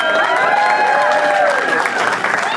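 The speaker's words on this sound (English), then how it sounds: "Once again, friends and family, make some noise for Merhab Abu." Wedding guests applaud and cheer loudly and steadily at a reception during the speeches, a dense wash of clapping with scattered shouts and whoops throughout.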